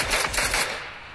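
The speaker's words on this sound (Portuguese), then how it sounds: "Quero saber quem é que tá dando esses tiros aí." Rapid burst of automatic gunfire in a competitive shooter video game, several quick cracking shots in about half a second before fading out.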